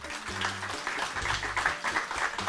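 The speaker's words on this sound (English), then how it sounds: "Give him a round of applause" An audience applauds a former ship captain during a talk, a brief burst of clapping with a voice speaking over it.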